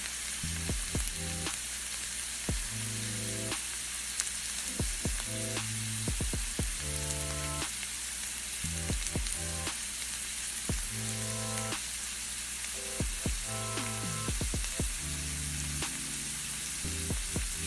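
Soaked and boiled chickpeas for chole sizzle and bubble in a pan over a medium gas flame, a steady, close frying hiss broken by repeated clinks of a spoon stirring, with no voices.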